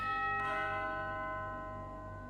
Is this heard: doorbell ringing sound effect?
yes